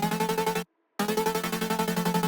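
Layered synth chords built from a saw wave with five unison voices and a sine wave with three unison voices pulse in a rhythmic pumping pattern for a melodic drum and bass track, briefly cutting to silence before resuming.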